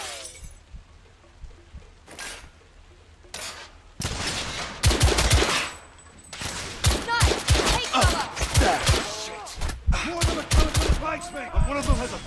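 Bursts of gunfire and suppressing fire in a firefight from The Order: 1886, a PS5 game, with rapid shots, shattering impacts and shouting voices between volleys, loud and dense in the second half.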